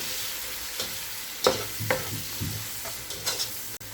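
Coriander powder, chili powder and salt are stirred in a pan for vegetable pulao, with a steady sizzle broken by several distinct scraping strokes of the spoon, close and fairly loud, and no voices.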